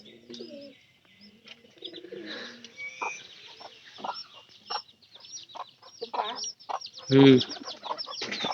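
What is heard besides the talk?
chickens clucking after being let out in the morning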